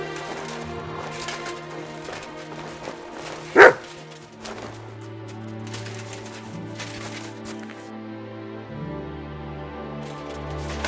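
A dog in the video game Kingdom Come: Deliverance 2 gives a single sharp bark amid a music score and ambient game sounds, with faint birdlike calls nearby.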